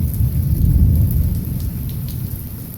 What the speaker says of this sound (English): it's really picked up with the lightning and thunderstorm